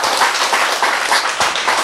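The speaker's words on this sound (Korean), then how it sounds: "박수. 예." Short burst of audience clapping during a Korean health lecture, loud and close, with scattered sharper claps standing out from the steady applause.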